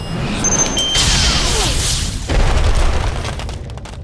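Missiles strike in a robot battle in the Costume Quest video game, a whooshing launch followed by heavy booming explosions that roll out loudly and then fade.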